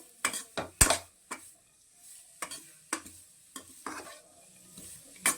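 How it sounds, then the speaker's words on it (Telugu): Carrot pieces fried in ghee and stirred in a pot, with a series of sharp scraping clinks from the spoon on the metal separated by short pauses over a faint sizzle, close and fairly loud, with no talking. "ఇది కూడా బాగా మెత్తగా అయ్యేటట్టు వేయించుకోవాలండి మీ నేతిలోనే మెత్తగా వేయించుకోవాలి దగ్గరుండి కలపాలండి"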